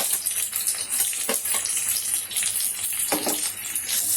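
Onions frying in a pan for an Avrekalu chicken sambar, a steady close sizzling hiss with a few brief louder crackles, no voices over it.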